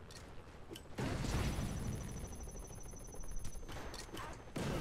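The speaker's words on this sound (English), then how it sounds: "Grenades being piled across into that control center" Grenade blasts and rapid gunfire around a control center in a 5-on-5 Modern Combat 5 match on PC, a dense burst of explosions and shots after a quieter start, moderately loud.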